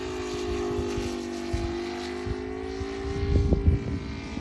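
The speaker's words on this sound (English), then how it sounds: "I can actually hear the sound of this beautiful plane in the air" An Aeroworks Yak 55 model aerobatic plane powered by an ASP 400 radial engine flies on a calm day, a steady buzzing engine tone that shifts slightly in pitch, with wind buffeting near the end.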